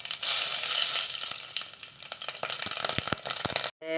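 Mustard seeds sizzle and crackle steadily in hot oil for a mackerel curry, a dense frying hiss dotted with sharp pops that build toward the end before cutting off abruptly.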